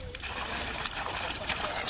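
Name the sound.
water flowing from Ecozon 5 HP solar pump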